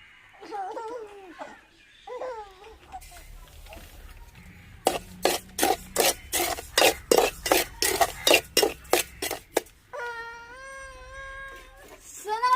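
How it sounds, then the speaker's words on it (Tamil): Semolina dry-roasting in a pan on the stove for kesari, stirred with quick, rhythmic scraping strokes in a steady burst, with brief voice-like calls heard before and after. "இப்போ ரவை வறுக்கிற காண்டி சட்டி அடுப்பில் வச்சுக்கிறோங்க"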